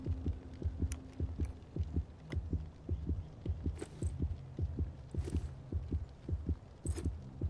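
A steady, thumping heartbeat from a video game pulses in a regular double-beat rhythm for several seconds, low and close, with a faint hum underneath and no talking.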